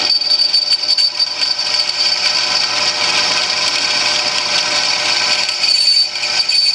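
A power drill whines continuously at high pitch as it bores a hole without cutting fluid for a riding mower leaf mulcher chute block, loud and close, with a slight dip near the end.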